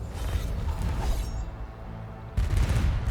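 Automatic defense cannons fire in the Arknights: Endfield video game, a rapid mechanical burst of shots with a creaking, clanking texture, then a louder booming volley near the end, with no talk over it.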